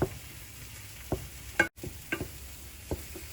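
A spoon stirs white flour into warm oil in a pan for a moussaka white sauce, making several distinct scraping strokes over a soft, continuous sizzle.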